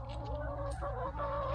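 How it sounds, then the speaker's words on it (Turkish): Chickens cluck softly and steadily at close range while pecking at a crushed lemon that has fallen on the ground. "Bu madem tavuklar yiyor."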